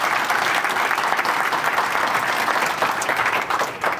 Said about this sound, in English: So join me in giving her a round of applause.